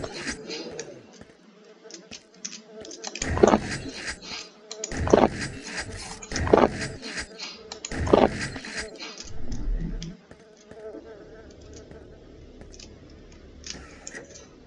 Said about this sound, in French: Ces bruits de mouches qui nous rappellent que ce ne sont que des carcasses.